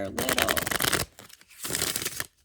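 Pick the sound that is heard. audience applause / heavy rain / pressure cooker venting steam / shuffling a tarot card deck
shuffling a tarot card deck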